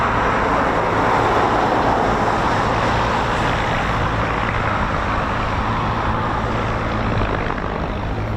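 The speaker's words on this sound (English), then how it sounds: "the Spitfire's just having a little engine run" A Spitfire's piston engine runs steadily on the ground at an RAF station, a loud, continuous rumbling roar heard at some distance with no other sounds standing out.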